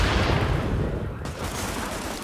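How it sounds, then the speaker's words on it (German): Dense gunfire from a weapon in the co-op shooter The Division, a loud close burst that rattles continuously for about two seconds with no pause. "Ich schieß."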